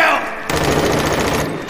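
Rapid automatic gunfire in a film scene rattles loudly after a brief opening shout, a continuous burst of closely spaced shots with voices mixed in.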